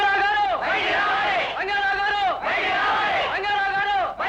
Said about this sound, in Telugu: ఏమిటి అరుపులు కేకలు?